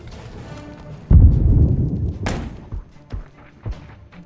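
A heavy booming blast bursts out after a second of low rumble, followed by scattered thuds and smaller impacts, like game explosions.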